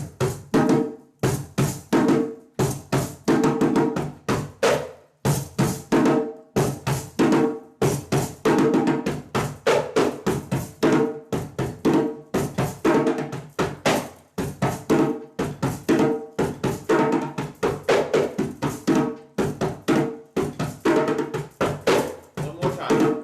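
West African hand drum rhythm played rapidly in succession, a dense run of sharp slaps and tones in a fast, driving pattern with brief pauses between phrases, loud and close throughout.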